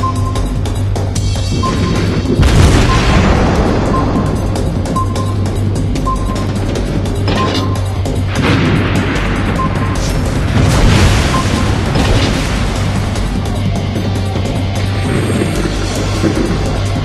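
Torpedo explosions in the World of Warships Blitz naval combat game: loud, dense booming blasts with crashing bursts over a steady low engine drone, heaviest near the start and again midway, with no talk.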